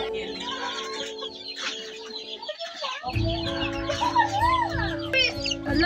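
Chickens cluck and squawk nearby over a steady background drone, with bursts of higher fowl calls growing busier toward the end.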